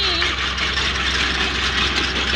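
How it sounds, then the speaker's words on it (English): A tractor-pulled potato harvester runs with a steady, loud engine drone that holds an even rumble throughout the field work. "Farmer Kurt is using a potato harvester machine. This is attached to our tractor."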